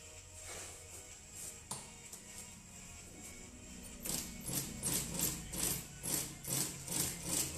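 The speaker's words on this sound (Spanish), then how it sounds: "Voy a darle costura acá, al ancho de prensa tela" A sewing machine stitching a mini bucket bag, at first quiet with scattered taps, then a run of regular rhythmic stitching pulses for the last few seconds, close and moderately loud.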